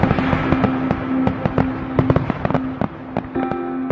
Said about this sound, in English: So there's fireworks, hot dogs, parades.